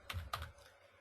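Two quick keystrokes tap on a computer keyboard, close and quiet, with a short pause after.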